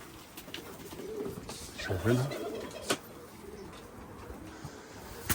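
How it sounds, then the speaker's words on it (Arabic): Pigeons cooing inside a pigeon loft, low soft coos rising briefly around the middle, with a nearby voice speaking over the bird sounds. "حنا نسميه حمام هزازي شماسي"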